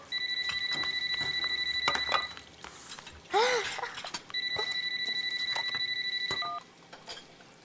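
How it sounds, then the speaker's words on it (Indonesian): A telephone rings in steady electronic trills, two bursts separated by a gap, with clinking of dishes and a rising tonal chime between them in a quiet indoor room. "Ada telepon ya? Neng, angkatin Neng telepon."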